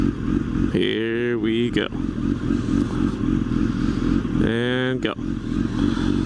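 A motorcycle engine revs up twice with rising pitch, dropping off between gear shifts over a steady idle rumble, while a rider talks over it.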